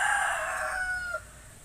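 A rooster in a backyard chicken breeding pen crows once nearby, a loud drawn-out call that tapers off, with no talking.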